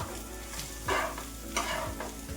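A grated egg masala mixture with pav bhaji masala, salt and coriander being stirred in a hot pan for a street-style anda ghotala, with soft sizzling and two louder scraping strokes of the spoon.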